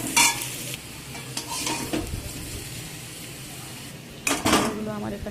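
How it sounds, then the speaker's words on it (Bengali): Potato pieces with turmeric and salt sizzle in oil in a pan as they fry for chicken curry, with a few close, loud stirring scrapes and clatters over a steady frying hiss. "প্রথমে চিকেনের আলুগুলোকে আমি একটু হলুদ আর লবণ দিয়ে ভেজে নিচ্ছি।"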